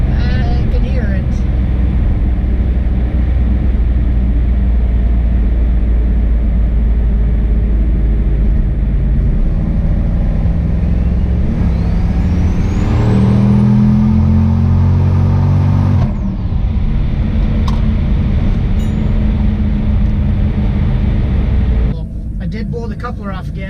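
A turbocharged Cadillac Escalade with its exhaust cutout open produces a loud, steady engine drone that rises into a rev with a climbing turbo whine midway and then drops back to idle, with people talking over it.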